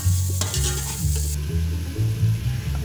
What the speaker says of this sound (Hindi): अब ये लहसुन अदरक का पेस्ट डाल दूँगी।